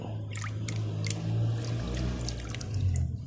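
Banknotes being swished and rinsed by hand in a basin of water, with soft splashes, drips and trickles close by under a steady low background hum, and no speech.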